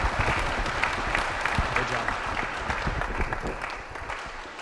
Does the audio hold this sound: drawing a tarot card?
no